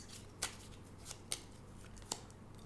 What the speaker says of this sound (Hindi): let's get the clarifiers. 3 cards.